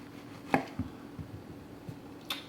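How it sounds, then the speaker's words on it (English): A knife chops a tomato into brunoise on a cutting board with a handful of light, irregular taps, fairly close and quiet. "I've cut this into a brunoise now"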